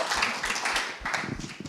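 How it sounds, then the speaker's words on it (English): Conference audience clapping for speakers at a food recovery summit breakout session, a short, moderately loud round of dense hand claps with no voices. "let's give our speakers a round of applause"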